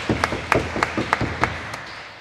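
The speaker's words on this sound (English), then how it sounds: "as we give both teams a round of applause" A small crowd at a women's basketball game between Reading Rockets and Cardiff Met Archers gives a brief round of applause, with sparse, distinct claps fading out over about two seconds.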